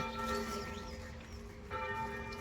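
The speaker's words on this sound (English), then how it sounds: "I love it when the bells are ringing." Church bells ring at a distance in Grasmere, England, their sustained overlapping tones humming steadily, with a fresh strike near the end.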